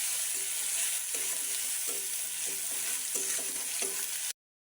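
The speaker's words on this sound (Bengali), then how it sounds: "এখন একটু নেড়ে চেড়ে নেব।" Chickpeas fry with turmeric and salt in a pan, a constant close sizzle broken by regular scraping stirs roughly every half second to second, then a sudden cut to silence.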